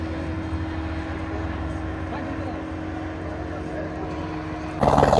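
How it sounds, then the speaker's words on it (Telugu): A helicopter of the S20 series arrives for a beach ride at Rushikonda Beach, producing a steady, continuous engine drone with a faint hum. Background crowd voices run under it, and a sudden burst of noise comes at the end. "హెలికాప్టర్ వచ్చింది, S20 సిరీస్."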